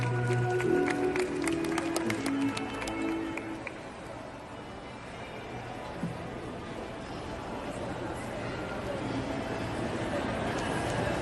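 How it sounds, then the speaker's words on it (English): Commencement audience clapping in a hall, a soft, diffuse patter of applause that swells and carries on for several seconds beneath some brief music and noise. "A round of applause, please."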